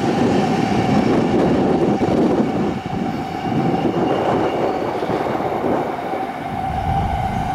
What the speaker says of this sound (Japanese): 次は新幹線、あれはなんだ、小町かな。